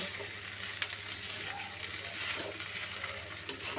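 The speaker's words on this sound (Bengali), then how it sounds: "এভাবে এটাকে একটু নাড়িয়ে ছাড়িয়ে নামিয়ে দেব" Banana flower curry (mochar ghonto) is stirred in a pan, with a soft continuous sizzle and light scraping spoon strokes at moderate distance.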